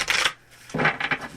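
A deck of cards being shuffled at a tarot-style reading, a short rapid riffle of crisp papery flutters, a brief pause, then another quick burst, close and fairly loud with no talk.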